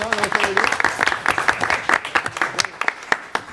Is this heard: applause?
yes